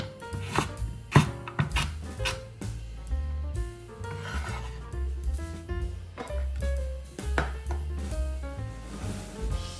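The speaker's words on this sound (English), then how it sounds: "grams of carrot, cut into thick julienne stripes." A knife cuts carrot into thick julienne strips on a board, with irregular clear chops and taps, close and moderately loud with no talking.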